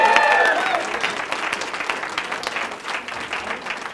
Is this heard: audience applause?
yes